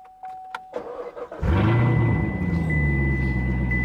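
A Corvette C7 ZR1 engine cranks over and fires up loudly, settling into a deep, rumbling idle after a few clicks and some interior rustling, with no talking.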